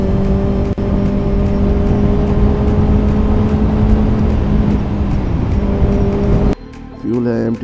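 A 2024 Kawasaki ZX6R motorcycle engine fitted with a DB killer drones loud and steady at a close, somewhat muffled idle, then cuts off abruptly near the end, where a voice is heard.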